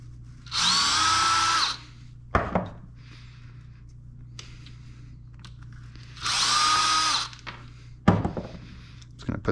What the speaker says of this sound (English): I'm going to undo these 2 screws from this brush block.